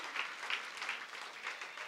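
A church congregation claps during a Sunday service, a faint, distant wash of steady applause with soft clap accents, no voices on top.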